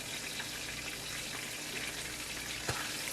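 A steady, dense sizzle of chicken frying in hot oil on medium heat fills the clip, close and continuous, with a single soft knock near the end.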